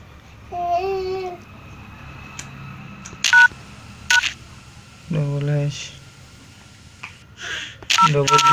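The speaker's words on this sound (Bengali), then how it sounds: "এভাবে ডায়াল করলে আপনাদের এটি বন্ধ হয়ে যাবে।" Phone keypad tones dial a call-forwarding cancel code. Several short, clear beeps come in separate groups, some stepped in pitch, and a voice talks between them.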